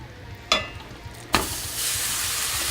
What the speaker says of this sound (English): First thing we want to do for our Victory Nachos is we want to get the meat cooking.